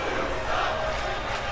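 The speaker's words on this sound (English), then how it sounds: "The crowd not happy with this violent display we are seeing from Jordan Richard." A virtual arena crowd in a WWE 2K wrestling game boos and roars in a dense, sustained wash of noise, loud and continuous without breaks.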